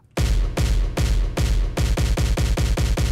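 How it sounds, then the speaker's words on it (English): Booming stadium-style kick drums in a melodic dubstep production strike in a mini buildup. The hits are loud and spaced evenly at first, then fall closer together and speed up toward the end. "Make a mini buildup with the stadium kicks."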